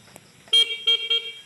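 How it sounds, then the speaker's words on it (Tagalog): A motorcycle horn is tested with three short, bright honks in a row, close and loud against a quiet background. "Busina, meron na rin siyang busina."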